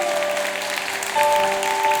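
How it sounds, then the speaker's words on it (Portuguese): A congregation applauding during a Pentecost vigil sermon, a steady wash of many hands clapping that swells slightly halfway through, with a sustained tonal hum beneath. "Pode aplaudir."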